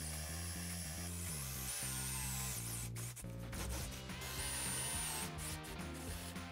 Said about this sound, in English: For this section, I thought it was easier to use a forstner bit to remove the bulk of the material.